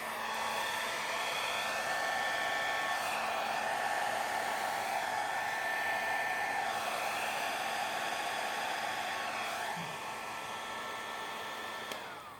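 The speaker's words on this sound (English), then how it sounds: "a blow dryer." A blow dryer runs steadily to dry paint on a colour palette painting, a loud, continuous close whoosh that holds for several seconds before easing slightly near the end.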